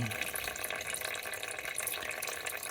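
Transmission oil drains from a 2014 Nissan Sentra in a steady, close trickling flow of liquid that runs without a break.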